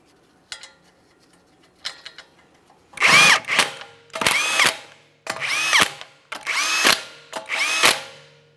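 A power tool runs down the 21mm lug nuts on a Mazda 3 wheel in five close, loud bursts, each a rising whine that snaps off. A few faint clicks come before them.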